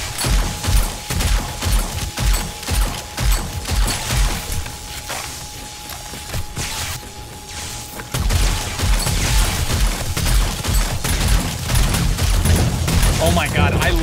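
Repeated Winchester rifle shots loaded with AP ammo in 7 Days to Die during a zombie horde night, sharp regular reports amid a noisy fight, with a player talking throughout.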